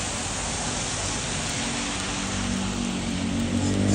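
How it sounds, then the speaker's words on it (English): Steady rain falls in New York City, a dense, even hiss close by that swells slightly toward the end, with a low hum underneath and no talking. "I'm trying to make this rain slow down."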